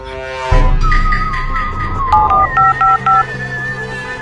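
Telephone keypad dialing tones ring out as a quick series of short, evenly spaced electronic beeps, clear and close, over a steady background tone.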